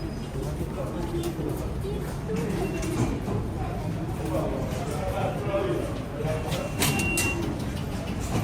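A New York City subway train rumbling through a station or tunnel during a heat wave, with steady low rolling noise, faint wheel squeal and clatter, and a voice talking over it throughout.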